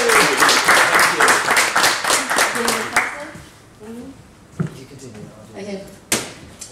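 A crowd at a talk on mobility planning in Luxembourg claps loudly and densely for about three seconds, then the applause stops and a few voices and scattered knocks follow.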